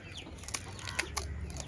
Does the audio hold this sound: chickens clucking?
yes